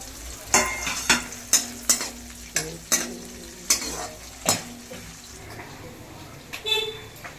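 Green chili and curry leaves hit hot oil in a pan, giving a series of sharp, loud crackling bursts that spit and pop in an irregular rhythm over a steady sizzle, close by.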